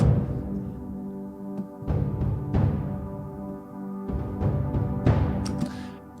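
Remix of a Zelda puzzle jingle pitched down and run through saturation, playing as a warm, gritty synth melody with punchy drum hits in a loose rhythm, loud and alone.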